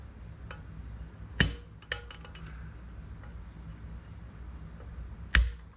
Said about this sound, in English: I'm going to tap the top of that retainer.